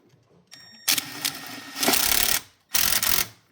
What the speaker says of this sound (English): So I'm just going to go ahead and tighten two of the bolts.